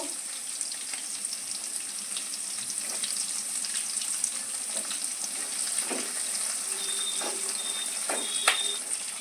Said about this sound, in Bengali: লাল লাল করে একটু হালকা করে ভেজে নেব